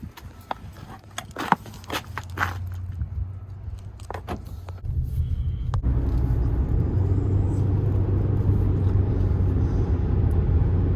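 A car pulls away for a brake test drive, its shaking-while-braking fault under inspection: light clicks and handling noises give way to a steady, building road and engine rumble as it gets moving.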